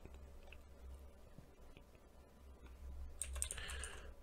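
Fingers type a password on a computer keyboard in quick, faint key taps, with a brief louder flurry of clicks near the end.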